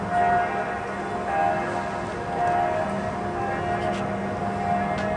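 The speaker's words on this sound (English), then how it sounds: "And the church bells are ringing." Church bells ring out over a town on the Main river, a steady peal of repeated tolling strokes blending with outdoor street ambience, moderately loud and carrying across open space without speech.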